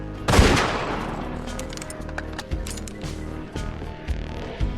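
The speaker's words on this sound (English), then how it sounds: "the Torg brand boomstick can shoot 6 rockets at once" Video game weapon fire from a Torg boomstick rocket launcher in Borderlands 2, opening with one loud blast followed by several lighter bursts and mechanical clicks.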